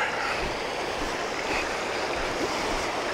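A small river runs past a campground causeway, its steady, even rush of water filling the scene continuously with no voices over it.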